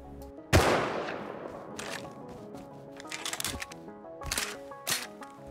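Gunfire in the survival game Rust: one sharp, loud shot opens, then several scattered, quieter cracks follow at irregular intervals over a backdrop of steady music-like tones.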